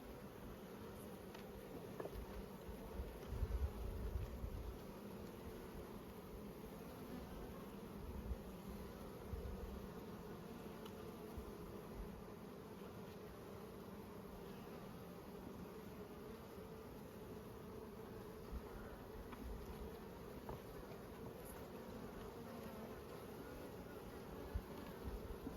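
Honey bees drone steadily around nucleus hives at an apiary during a hive inspection, a continuous close buzz with individual insects passing near and away, no talking.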